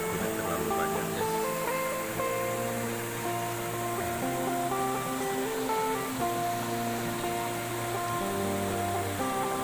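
The Tosah waterfall in Central Kalimantan, running with little water, gives a steady, continuous rush of falling water that stays even and fairly loud throughout, with no voices.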